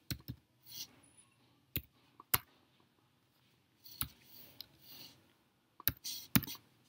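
A PAN card number is typed on a computer keyboard: scattered, close key clicks and taps come singly and in small clusters with quiet gaps between them, in an otherwise hushed room.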